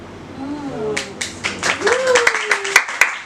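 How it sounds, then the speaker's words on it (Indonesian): A voice speaks at first, then an audience at a student association gathering breaks into clapping that builds and continues, with a speaking voice overlapping the claps. "Ya, tepuk tangan dulu ya"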